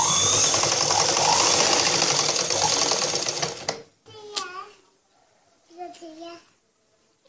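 A sewing machine stitches a blouse in a fast continuous whir for about four seconds, then stops, followed by brief voices.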